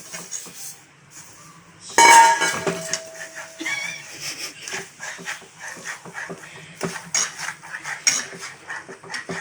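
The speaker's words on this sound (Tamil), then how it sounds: "இப்போது நாங்கள் சர்க்கரை ஒரு கப் சம அளவுக்கு எடுத்த சர்க்கரையை நம்ம போட போகிறோம்." Sugar tipped into mung dal halwa in a pan, with a sudden burst of clatter and scraping followed by softer stirring and clinks of a utensil.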